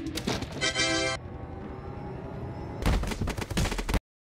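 Bursts of gunfire in the Roblox game Build a Boat for Treasure during a mech fight, loud and rapid, with a sustained stretch of repeated shots near the end that cuts off abruptly.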